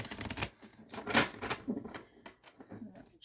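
Tarot cards being shuffled by hand, a run of crisp papery riffles and taps with short pauses between bursts, close and fairly quiet, with no talking.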